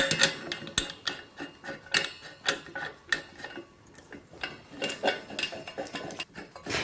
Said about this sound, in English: we need to put this connector into the top of our tank here